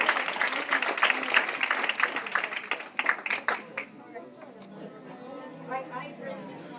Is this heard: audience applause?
yes